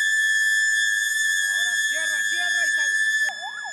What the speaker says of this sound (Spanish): Al iniciarse la jornada se activaron las sirenas de alerta instaladas en la zona ribereña.